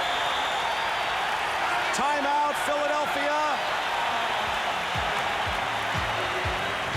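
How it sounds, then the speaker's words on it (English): Boston Garden crowd roars at a 1981 Eastern Conference Finals Game 7 between the Celtics and 76ers, a loud, steady wash of cheering and applause that persists under a public-address announcement and play-by-play talk. "there's that crowd"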